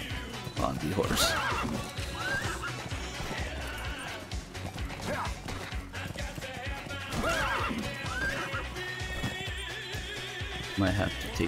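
A horse whinnies loudly several times over galloping hoofbeats and game music in Metal Gear Solid V, with someone talking throughout.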